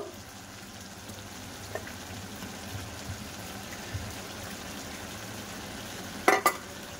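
Slit green chillies hit a pot of white basmati pilau, giving a steady low sizzle throughout, with a brief louder clatter of stirring near the end.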